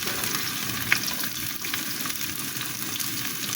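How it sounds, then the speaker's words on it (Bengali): Chopped onions fry in hot oil in a home kitchen, a steady close sizzle that fills the whole stretch, with a faint stirring scrape and no talk. "আমি তেল দিয়ে দিয়েছি, এখন আমি পেঁয়াজ কুচি দিয়ে দিব"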